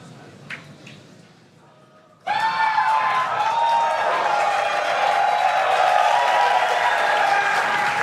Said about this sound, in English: As you can tell by the excitement from the crowd here at Mission Control Center in Hawthorne